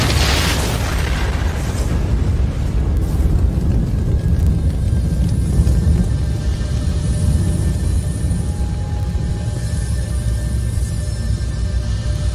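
A loud, sustained boom rolls on for over twelve seconds as an explosion effect for the Chernobyl reactor number 4 disaster, with a dense low rumble that holds steady without letting up.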